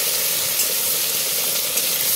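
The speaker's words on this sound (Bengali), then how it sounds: "চিংড়ি মাছ যখনই ফেলে দেওয়া হবে তখন একটু সঙ্গে সঙ্গে নেড়ে দিতে হবে" Shrimp frying in a hot pan while being stirred, a steady close sizzle and hiss that holds unbroken throughout, for a light Bengali-style shrimp curry with ridge gourd.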